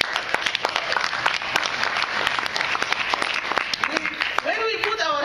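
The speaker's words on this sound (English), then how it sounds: "Let us put our hands together." An audience claps together at a Sudan policy summit panel, dense overlapping hand claps forming steady applause for several seconds, with a voice briefly audible near the end.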